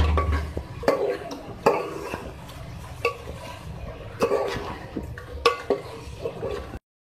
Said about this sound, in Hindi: अब इसमें मैं चिकन ऐड करूँगी 1/2 kg ठीक है। इसको मिक्स करेंगे अच्छी तरीके से